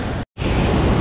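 Heavy water pours over a waterfall during a rainy-season village outing, a loud, steady, close roar that cuts out for a moment before rushing back.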